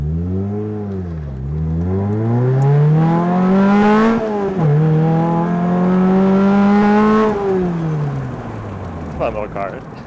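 A rebuilt, previously wrecked Lotus Exige sports car accelerates hard on a test drive, its engine note climbing through the gears in loud, close sweeps with brief drops at shifts, ending as the revs fall away.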